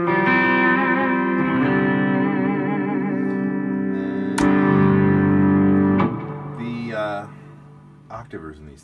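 An electric guitar runs through an ODR overdrive pedal with echo, sustained chords ringing with a crunchy edge and repeating trails, then shifting to bending, wavering notes that fade out.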